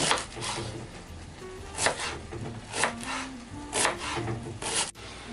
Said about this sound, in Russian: Так нарезаем две, две луковички.